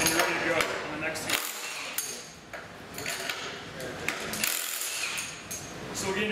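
A Milwaukee Lineman Shockwave impact wrench removing bolts, with dense, loud rattling impact bursts close up, broken by short pauses.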